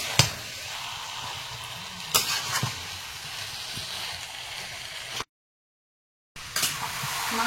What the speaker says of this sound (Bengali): এইবারে মাংসটা দেওয়া যেতেই পারে। এখন ভালো করে মিশিয়ে কষিয়ে নিতে হবে।